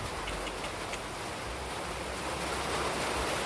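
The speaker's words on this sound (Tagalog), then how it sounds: "Ulan na po, ulan." Steady rain hisses down in a dense, even wash of noise, fairly loud and close, with no voices and no breaks.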